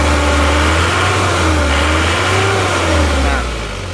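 A car engine running without a thermostat revs up and holds at a high, steady drone, loud and close, its pitch rising and falling slightly before easing off at the end.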